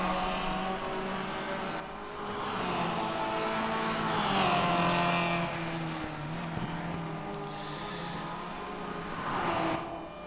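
Formula Junior open-wheel race cars lapping Raceroom Raceway in RaceRoom, engines droning steadily with rising and falling pitch as cars pass, continuous and fairly loud throughout with no clear talk.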